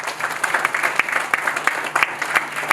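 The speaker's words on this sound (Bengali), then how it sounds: "আইবিএস একাডেমির জন্য একজন করতালি হবে।" Audience applause at an IBS Academy crypto awareness programme, a steady wash of many hands clapping in a hall with sharper individual claps standing out, fairly close and continuous throughout.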